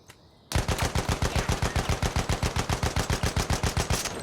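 Rapid automatic gunfire from a weapon in Battlefield, a steady burst of evenly spaced loud shots running without pause after a short quiet start.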